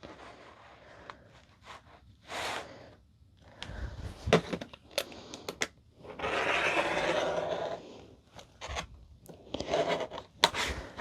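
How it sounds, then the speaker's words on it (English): Scissors cut through water-resistant canvas fabric for handbag zipper panels, giving close rasping snips and longer rubbing strokes in irregular bursts separated by short pauses. "zipper panels, I'm gonna cut those first"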